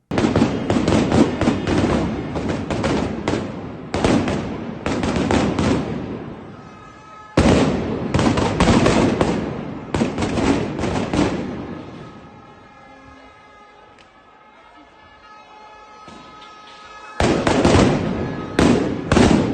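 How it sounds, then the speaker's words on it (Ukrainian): Rapid bursts of sharp cracking police gunshots fired into the air in dense volleys, loud and nearby, with a quieter lull in the middle before another burst of firing. "На відео видно, як правоохоронці стріляли у повітря."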